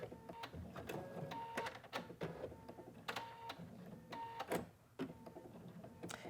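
An embroidery machine stitches an appliqué, giving a steady whirring, buzzing stitch noise with rhythmic mechanical clicks and short bursts as it pauses and trims jump stitches, fairly close and loud with no talking.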